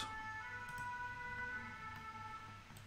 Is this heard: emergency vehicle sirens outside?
yes